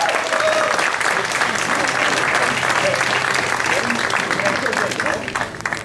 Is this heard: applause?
yes